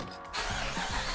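A Jeep engine with 166,000 miles, just fitted with a new EGR valve, cranks and catches after a short quiet moment, settling into a steady close rumble.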